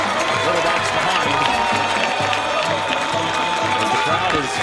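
A near-full football stadium crowd on homecoming night roars and cheers as the Vikings run out of the tunnel, a loud, sustained wash of voices with scattered clapping throughout.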